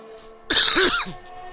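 A single sharp, loud cough bursts out from a person close by after a moment of quiet, with a rough throat-clearing quality, then fades away.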